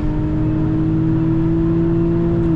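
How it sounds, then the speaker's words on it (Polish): A 2016 Infiniti Q50S AWD with 364 hp accelerates hard, its engine droning loudly and steadily from inside the cabin with a rising whine that dips briefly at the end, with no talk over it. "Ale ma... pierdnięcie ten samochód."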